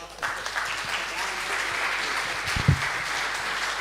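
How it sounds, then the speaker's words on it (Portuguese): A church congregation at an anniversary service applauds a couple, a steady wash of clapping throughout with a brief low thump near the end. "uma salva de palmas para esse casal"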